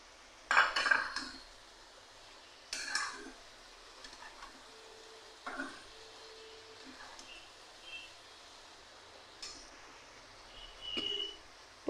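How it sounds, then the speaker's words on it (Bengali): Tangra fish slide into a hot cooking pan for a Bengali radish and tangra jhal. Sparse clattering knocks and brief sizzling bursts are spread across a quiet kitchen background. "মাছগুলো দিয়ে দিচ্ছি।"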